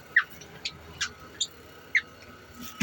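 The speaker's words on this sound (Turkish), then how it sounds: "kuşlar." Short, high bird chirps repeating irregularly, about six calls, fairly close against a quiet background.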